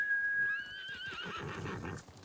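A horse neighs in the video game Ghost of Tsushima, a clear close whinny with a falling, wavering pitch, followed by snorting and a few hoof sounds.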